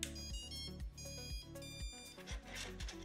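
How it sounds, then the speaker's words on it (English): A drone's ESC plays its startup melody through the motor coils, a series of loud electronic tones stepping in pitch with repeated rhythmic pulses, heard alone. "That sound you hear when turning on is created by the ESC using the coils of the motor as"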